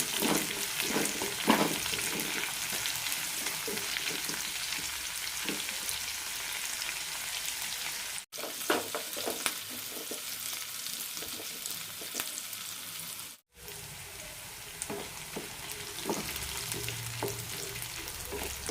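Small shallots sauté in a pan for chicken chinthamani, making a dense, continuous sizzle with scraping stirs and two brief cutoffs.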